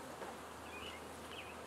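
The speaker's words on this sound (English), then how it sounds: "The bees don't seem to mind too much of this raining" Honey bees buzz around the hive in light rain, a faint steady hum with occasional nearer passing buzzes.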